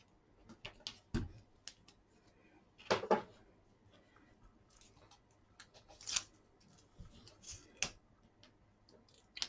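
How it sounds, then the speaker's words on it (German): Double-sided adhesive tape is pressed onto a handmade multi-compartment shaker card, giving a close series of crisp clicks, light taps and rustles spaced irregularly, with no talking. "Jetzt einfach hier so ein bisschen doppelseitiges Klebeband."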